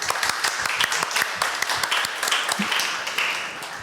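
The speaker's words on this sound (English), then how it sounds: "Yeah, an applause for me," An audience claps after a talk on web development with Dart, giving a lively burst of distinct, fairly close hand claps that keeps a steady level for several seconds.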